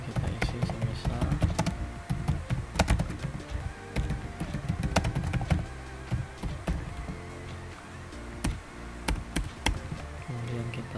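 Computer keyboard keys clicking in quick irregular bursts while working in Microsoft Word, close and steady, with brief pauses between runs of taps.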